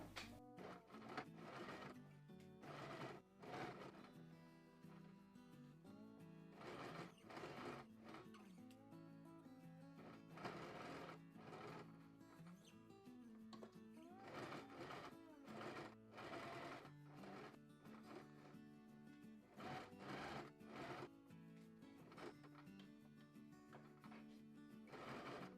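A sewing machine runs a straight stitch of length 3.5 on cotton fabric, whirring in repeated bursts separated by short pauses, loud and close with no voices.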